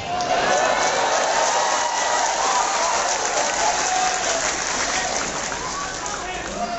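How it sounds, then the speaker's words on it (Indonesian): A campus audience at a university debate event applauds for Anies Baswedan, a dense steady wash of clapping with a crowd murmuring and a voice underneath. "tepuk tangan untuk Kang Anies Baswedan"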